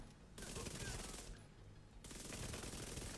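SMG fire in the video game The Division 2 rattles in fast continuous bursts, with a brief pause in the middle before the shooting picks up again. The volume stays fairly low overall.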